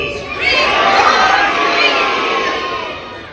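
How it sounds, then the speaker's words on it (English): A large crowd of children shouts together during a Halloween trick-or-treat event aboard a Disney Fantasy cruise ship, a loud sustained roar of young voices that swells early and gradually fades. "Scream trick or treat, and let's finish the deal."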